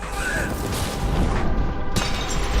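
A missile blast in the fast first-person shooter Severed Steel, a loud, sustained rumbling roar with a sharp crack near the end, and a voice briefly heard under it.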